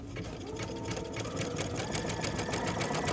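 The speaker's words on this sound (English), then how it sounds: "So lower your needle, hold on to both edges from front and back, and as you start to sew" A sewing machine stitches fabric in steady, rapid mechanical pulses, running continuously and close up while the fabric is guided through by hand.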